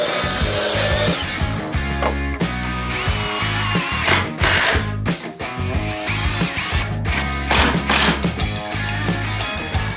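A 2x wooden board being cut with a power saw during bathroom rough-in electrical work, loud grinding and buzzing bursts that rise and fall over several seconds, close to the listener and without speech.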